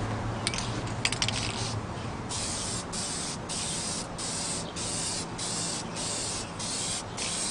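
An aerosol can sprays paint onto an RC dually truck body in a continuous loud hiss, broken into short regular strokes by brief pauses, with a few small clicks of the can near the start.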